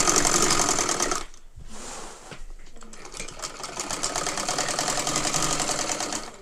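A sewing machine stitching a salwar runs loud and steady with a fast mechanical clatter, pausing briefly after the first second before resuming its continuous rhythm.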